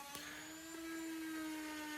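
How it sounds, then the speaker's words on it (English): A palm sander runs on wood with a steady high whine and a constant hum, close and even throughout, no voices present. "Here I'm just sanding this with this palm sander"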